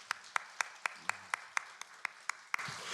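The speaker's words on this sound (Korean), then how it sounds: "우리 한번 박수로 안녕하겠습니다" Slow, evenly spaced claps ring out one at a time in a church during a worship service, sharp and distinct, before a brief fuller patter at the end.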